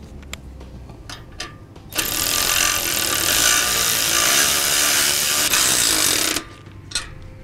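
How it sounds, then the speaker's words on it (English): A power tool tightens the U-bolt nuts on a boat trailer roller bracket, giving a loud, steady whirring burst of about four seconds, with a few small clicks and knocks before and after. "Now once I have it set in place, I'm gonna go ahead and tighten it down."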